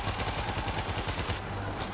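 Fast, steady automatic gunfire rattles in the zombie shooter World War Z, a rapid string of loud close shots from firearms and turrets with voices mixed in.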